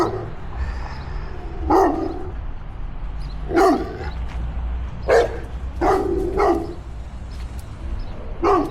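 Dogs bark in a street setting while someone walks through Dallas, with about six loud barks spaced irregularly over steady background traffic hum.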